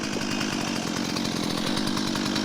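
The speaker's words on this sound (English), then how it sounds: "So what I'll do then, I'll drill the holes." A Milwaukee drill fitted with a spade bit bores holes for a garden room base, a steady high motor whine with a rapid buzzing rhythm, loud and close, running without a break.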